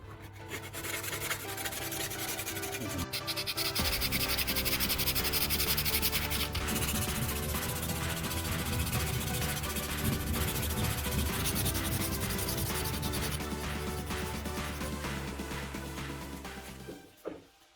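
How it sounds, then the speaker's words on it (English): Steady, continuous 400-grit sandpaper rubbing around a scissor handle, a dense scratchy hiss that runs unbroken for the whole stretch before stopping abruptly. "Continue sanding until the surface becomes more uniform."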